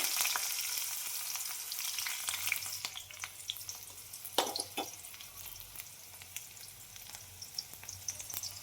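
Onions fry in hot oil with mustard seeds and cumin, a steady close crackling sizzle with scattered sharp pops and occasional stirring scrapes, no talking.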